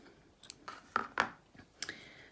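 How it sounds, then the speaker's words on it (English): Scissors snip through knitting yarn, a few sharp, close clicks and one distinct crisp cut in a quiet room, with no talking. "I'm going to cut the yarn"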